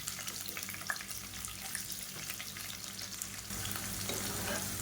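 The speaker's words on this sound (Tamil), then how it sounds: "நல்லா ஒரு கைப்பிடி அளவுக்கு பெரிய வெங்காயம் பொடியாக நறுக்கினதை சேர்த்துக்கலாம்" Finely chopped large onions fry in hot oil in a pan, giving a steady close sizzle with scattered crackles and a slight swell in intensity toward the end; no voices.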